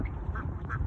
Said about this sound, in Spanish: Pato. Sí. Es pato.